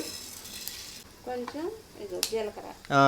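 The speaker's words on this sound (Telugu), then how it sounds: "ఇప్పుడు ఎండు మిరపకాయలు వేపుకున్న నూనెలోనే కొద్దిగా ధనియాలండి" Coriander seeds hit hot oil left over from frying dried red chillies, giving short bursts of crackling sizzle with the scrape of stirring and a clink of a pan, close and fairly quiet.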